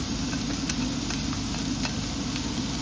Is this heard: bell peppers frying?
yes